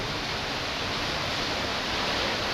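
Meeyan Ella waterfall in Halakotte, swollen with rainwater, pours as a steady broadband roar, close and continuous throughout with no voices.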